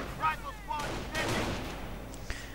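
Gunfire rattles in a World War II strategy video game as Grenadiers fire on advancing riflemen across open plains, several sharp shots and bursts mixed with a rumbling battle din.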